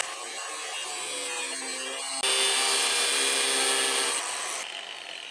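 A small power cutting tool grinds through rusted screws on an RC backhoe loader, a steady close whine that jumps louder and harsher midway as the blade bites into the metal, then eases off.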